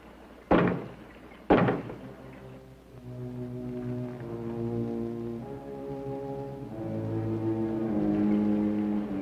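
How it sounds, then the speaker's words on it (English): Two heavy knocks from inside a closet in a horror movie, spaced about a second apart, followed by a swelling low orchestral score with sustained horn-like notes. "Knock twice if I'm not the first."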